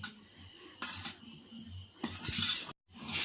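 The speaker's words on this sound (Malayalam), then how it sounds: "ഇനി നമ്മൾ അരിച്ചു വെച്ച പൊടികൾ ഇതിലേക്ക് മെല്ലെ കുറേശ്ശെ ചേർത്ത് കൊടുത്ത് മെല്ലെ ഒന്ന് മിക്സ് ചെയ്തെടുക്കാം." Spoon or whisk stirring sifted flour into black forest cake batter in a bowl, with intermittent scraping and clinking bursts against the bowl separated by quieter pauses, close and fairly soft.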